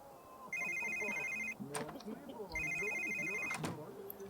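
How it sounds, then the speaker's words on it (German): A telephone in The Sims 3 video game rings in two electronic trilling bursts, each about a second long, while someone talks over and between the rings. "Es bimmelt dauernd. Es bimmelt, wie es noch nie gebimmelt hat."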